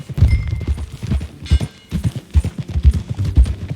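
Horse hooves clip-clop in a steady, close rhythm as a rider travels along in Red Dead Redemption 2, the beats loud and continuous throughout.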